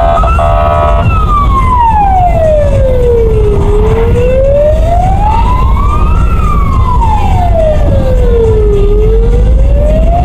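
A loud wailing ambulance siren sweeps slowly up and down in pitch, rising and falling repeatedly over a constant rumble of road noise.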